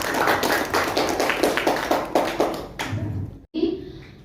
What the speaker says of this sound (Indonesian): Mari kita tepuk tangan bersama.